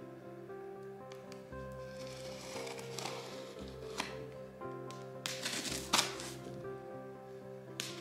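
Scissors cut into the cardboard box of a Xiaomi Smart Projector 2: quiet scraping, snipping and rustling of cardboard in short bursts, fairly faint and close.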